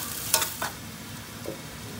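Onions fry with cardamom, cloves, cinnamon and star anise in a pan, producing a soft, steady sizzle broken by a few sharp clinks and stirring scrapes, close by with no talk.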